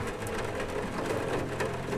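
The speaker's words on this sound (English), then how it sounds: "I like that rain sound." Steady video game rain hisses in a dense, continuous wash of noise, fairly loud and unbroken, with no voices.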